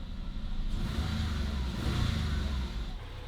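A Porsche 911 engine revs with a steady, loud, low mechanical drone that swells slightly around the middle and stays close and continuous throughout.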